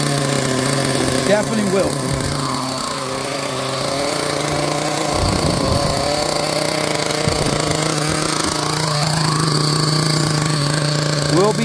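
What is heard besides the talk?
new nitro engine of a Team Associated MGT RC truck running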